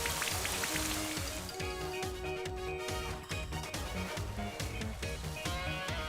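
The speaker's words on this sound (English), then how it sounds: "It started raining." Steady rain patter in Pokémon Sword, triggered by the move Rain Dance, mixed with a looping musical backing and rhythmic beats throughout.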